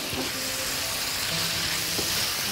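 Shrimp fry and sizzle steadily in a pan beside lisan al-asfour pasta, a continuous close hiss of hot oil with no talk.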